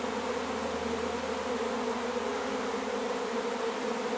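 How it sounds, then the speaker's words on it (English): A swarm of honey bees flying among blooming dandelions and apple trees gives off a dense, continuous buzzing drone that stays steady and fairly loud throughout. "I'd rather keep these bees and have them flying everywhere"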